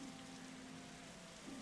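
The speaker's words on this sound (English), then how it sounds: "Why is it always raining, Dooley?" Steady, even rain hiss from The Darkside Detective game, a continuous wash of falling drops with a low hum beneath, no voices.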